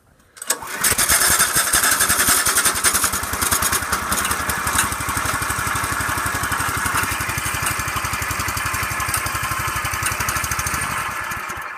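A Sears mud mower engine fires up after a short quiet moment and keeps running loud and steady with a fast, even chugging beat, close by and alone without any talk.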